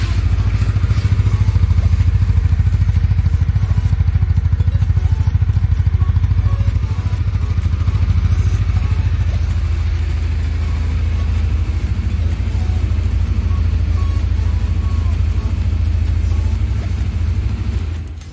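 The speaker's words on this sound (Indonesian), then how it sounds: "150R yang paling garang suara knalpotnya." A 2022 Honda CBR150R motorcycle engine and exhaust rumble loudly and steadily at idle, a constant low throb close to the bike with no talk.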